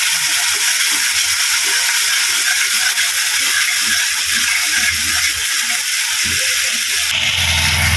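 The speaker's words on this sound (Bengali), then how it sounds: "এবার ভালো করে কষিয়ে নেব।" Spice mix with a little turmeric sizzles in a pan, with a bright steady hiss and small crackles running the whole time, loud and close.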